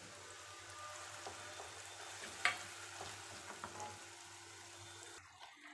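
Onions frying in a pan for sev usal give a steady soft sizzle with faint stirring clicks, one brief scrape midway, continuous and fairly quiet before cutting off near the end.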